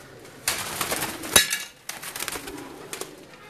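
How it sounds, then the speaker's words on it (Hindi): Pigeons kept at home coo softly and intermittently, mixed with sharp bursts of wing flapping and rustling close by. "ये आप देख सकते हैं जी कबूतर"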